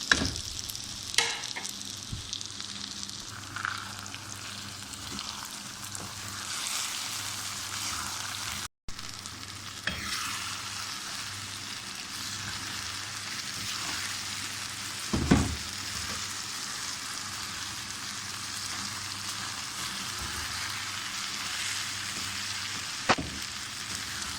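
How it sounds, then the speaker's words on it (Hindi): Chopped tomatoes and spices sizzle steadily in a pan with fried okra while a spoon stirs now and then, the frying hiss continuous and moderately close, with occasional scrapes and clinks. "अब इसमें ये टमाटर और मसाले डाल लेते हैं।"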